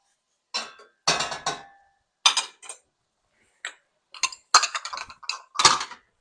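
Dishes, pots and cutlery are gathered and set down in a home kitchen sink during cooking, giving scattered close clinks and clatters in short bursts separated by silence.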